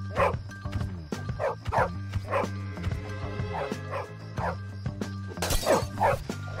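Dog barking in the video game Bully: a rapid series of sharp, close barks and yips, repeated in quick bursts over a steady low hum, with one louder shattering burst near the end.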